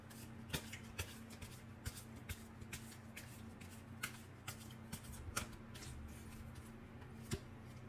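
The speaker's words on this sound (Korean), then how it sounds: "두 분의 관계에 대한 조언 카드 한번 뽑아보도록 할게요" Tarot cards being shuffled and drawn, a steady soft riffle with repeated sharp flicks and snaps of cards over a low hum, close and quiet with no talking.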